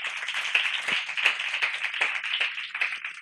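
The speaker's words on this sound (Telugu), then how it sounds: "చప్పట్లు కొడదాం ఒకసారి మళ్ళీ" A children's Sunday church audience claps together in a quick, lively burst of many hands, dense and fairly close, lasting a few seconds with no talking over it.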